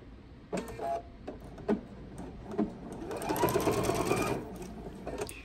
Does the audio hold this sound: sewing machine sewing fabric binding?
yes